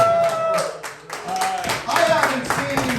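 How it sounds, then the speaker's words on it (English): Audience clapping for a comedian at a roast battle, a short burst of hand claps in a room, mixed with voices and laughter over the top. "A round of applause for Chris."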